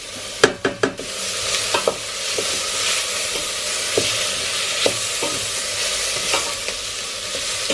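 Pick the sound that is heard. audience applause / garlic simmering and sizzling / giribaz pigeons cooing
garlic simmering and sizzling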